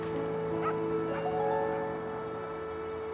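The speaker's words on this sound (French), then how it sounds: "Tous les chiens qui sont en cage et qu'on emmène au refuge aboient et bougent la queue si tu les appelles" A caged dog being taken to a shelter barks a few times, with whimpering yips over a steady hum, as in a vehicle, and no clear speech.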